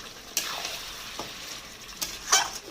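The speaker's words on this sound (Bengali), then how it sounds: "এবার ভালো করে কষাবো" Mutton with yogurt, spices, paste and whole garlic cloves stir-fried over medium-low heat for Bengali mutton kosha, giving a steady soft sizzle broken by a few sharp scraping strokes of the spoon, close by with no talk.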